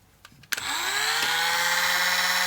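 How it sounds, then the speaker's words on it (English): Small drill boring a 1mm hole: a brief click and clatter, then the motor spins up at about half a second into a steady high whine that holds loud and close to the end. "I'll drill the 1mm hole first."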